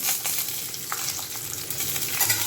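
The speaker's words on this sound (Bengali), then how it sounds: "এবার একটা গোটা রসুনের কোয়া আমি এই গরম তেলে দিয়ে দেব।" Garlic cloves, nigella seeds and dry red chillies sizzle in hot mustard oil, a steady crackling hiss with a few sharper pops, close and fairly loud throughout.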